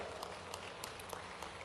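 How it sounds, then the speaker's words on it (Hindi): A rally crowd in Rajgarh applauds in a faint, distant wash of clapping, steady and even throughout with scattered slightly sharper claps. "यशस्वी प्रधानमंत्री का जोरदार ताली बजा के अभिनंदन करो।"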